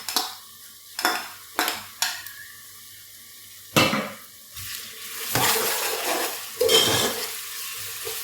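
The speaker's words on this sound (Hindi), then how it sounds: "एक मिनट के लिए भून लेंगे हम। एक मिनट मसाले को भून लिया।" Onion and ginger-garlic paste sizzling in a hot pan for a mutton karahi, with a spoon scraping and stirring in bursts, the frying hiss growing steadier and louder toward the end.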